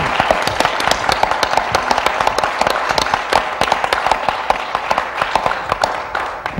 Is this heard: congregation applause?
yes